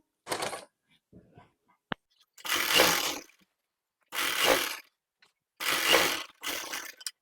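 A sewing machine runs in four short bursts of rapid stitching on a lined suit, each whirring run lasting about a second with quiet gaps and small clicks between.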